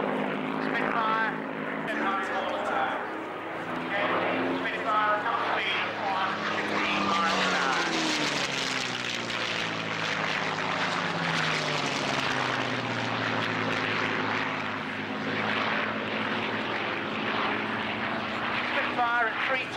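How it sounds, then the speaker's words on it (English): A Supermarine Spitfire flies past at an air show, its propeller engine a loud, steady drone that swells and sweeps down in pitch as it passes, with a voice commentating over it throughout. "Spitfire."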